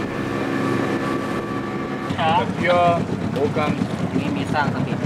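A small motorboat dinghy hums along amid wind noise, and excited voices call out partway through as it approaches an island village.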